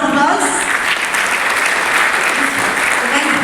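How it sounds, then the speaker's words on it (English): Steady, loud applause from an audience at a business chapter launch event, continuous clapping throughout with crowd murmur beneath. "Once again, a round of applause"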